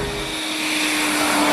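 A gas turbine car engine at 28,000 RPM gives a steady, high whining hum with a constant tone, loud and close, holding evenly throughout with no voices.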